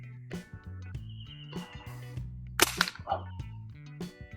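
A PVC toy gun fires a single sharp shot during a zeroing test at 15 meters, the crack standing out midway over steady background music.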